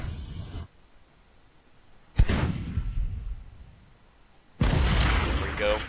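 Gunfire and explosions hit a mortar unit in the World War II strategy game Frontline: Road to Moscow, with two loud booming blasts that decay into rumble after an opening burst of battle noise.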